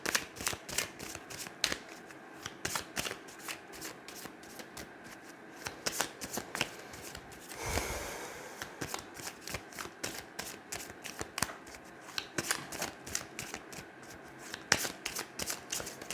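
Tarot cards being shuffled for a reading make a steady, close, quiet run of riffling slaps and flutters that repeats throughout, with a brief softer pause midway.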